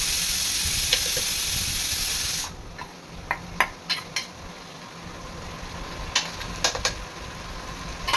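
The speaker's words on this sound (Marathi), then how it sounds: "कांदा छान परतून झालेला आहे." Onions sautéing in a pan for pav bhaji sizzle loudly for a couple of seconds, then drop to a quieter hiss with several sharp spatula taps against the pan.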